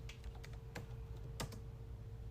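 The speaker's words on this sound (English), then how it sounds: "My keyboard sucks." Keys on a worn, failing computer keyboard being mashed in quick irregular bursts of clicks, close and fairly quiet over a steady background hum.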